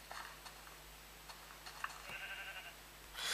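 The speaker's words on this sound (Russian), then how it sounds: "Такая овца." Faint Minecraft sheep bleats from the Pocket Edition game, a few short calls scattered through quiet game background with small ticking clicks, no talking.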